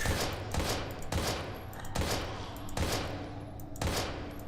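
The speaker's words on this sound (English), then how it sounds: "I'm gonna have to shoot you" Gunfire in the video game Daymare 1998: a rapid series of loud, close shots at an uneven rhythm, roughly seven reports over a few seconds, each with a short booming tail.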